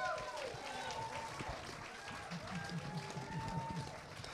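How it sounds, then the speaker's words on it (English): An audience at a comedy contest claps steadily for the winner, Dan Willows. The applause is continuous and a little distant, and a voice speaks over the clapping. "Please, great big huge round of applause for Dan Willows."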